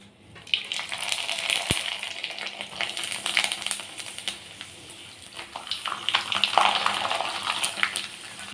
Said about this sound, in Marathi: आपण पहिला ओवा घातलेला पापड तळून बघूया